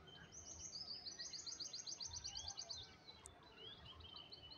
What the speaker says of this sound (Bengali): কত রকম পাখি ডাকছে চারিদিকে